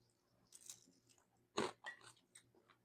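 Crunchy cassava fries dipped in ketchup are bitten and chewed close up, with a sharp crisp crunch followed by several softer chewing crunches and no talking.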